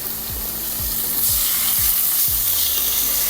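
Chicken thigh and drumstick pieces sear in a pan with a loud, continuous sizzle, while about five soft knocks at an even pace mark the pieces being placed or stirred, close up and with no talking.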